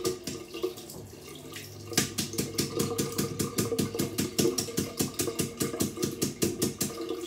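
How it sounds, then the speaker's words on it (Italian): A razor blade is rinsed under running water, a steady close stream of tap water with rapid rhythmic tapping of the blade against the sink during shaving. "Andiamo a sciacquare bene la lametta."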